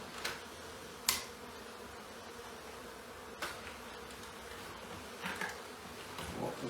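Honey bees buzzing faintly and steadily during a cutout of a colony from a chimney in Congleton, with a few sharp clicks and knocks breaking through the drone.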